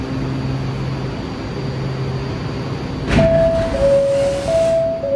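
A D express train running in Roblox PTA, a low steady rumble and hum that jumps in loudness at about three seconds with a burst of noise, followed by sustained whining motor tones.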